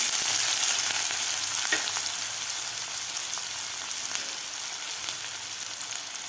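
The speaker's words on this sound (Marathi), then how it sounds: "कांदा सुद्धा आपल्याला व्यवस्थित परतून घ्यायचा आहे" Finely chopped onion sautéing in a mustard and cumin seed tempering for a Maharashtrian moong dal pithla, giving a steady, close hiss of frying in oil with faint stirring, and no voices.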